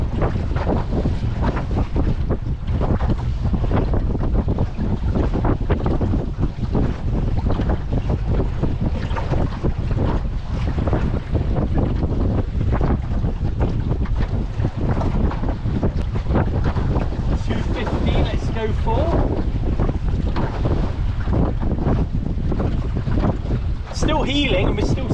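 A sailboat beats upwind and heels in a Force 4 wind with Force 5 gusts, heavy wind roar buffeting the microphone nonstop over rushing water, with occasional voices talking.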